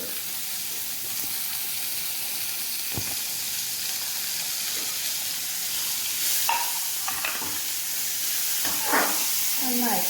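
Chopped onions frying in a pan for masoor dal curry, a steady, close sizzle. A few sharp stirring scrapes come through in the second half, and a faint voice sits low in the background.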